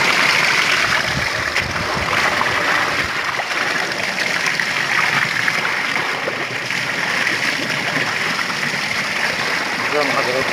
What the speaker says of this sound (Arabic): زي ما حضراتكم شايفين كده المية بتنزل بالشكل ده ومن التفتيش على الصرف